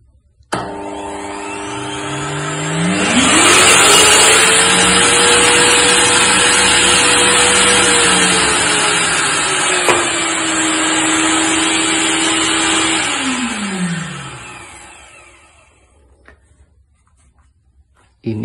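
An RYU RVC15L wet/dry/blow vacuum cleaner switches on, its motor whining up to a loud, steady drone that holds for about ten seconds before spinning down and fading out.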